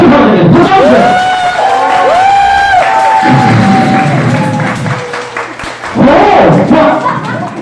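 Guests at a 70th birthday banquet clap loudly for the guest of honour's children, with whoops and cheering voices rising over the applause in bursts, a brief lull, then a fresh loud surge close by.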